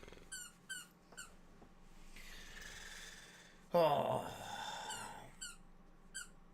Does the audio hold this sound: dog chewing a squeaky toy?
yes